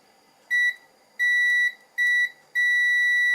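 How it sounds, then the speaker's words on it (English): A multimeter in continuity mode beeps four times with steady electronic tones of uneven length during a test across laptop battery terminals, clear and close with a quiet gap between each beep. "hopefully you'll hear the beeps. I should get a continuity across both of these terminals"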